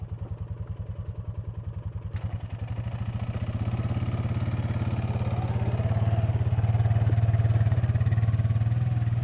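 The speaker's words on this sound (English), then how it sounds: "Carcass preparation complete, the big boar is extracted with the help of a quad bike." Quad bike engine pulling a big boar carcass out at night: a close, low mechanical chug that starts with distinct rapid pulses, then smooths into a louder, steady hum as the engine takes the load.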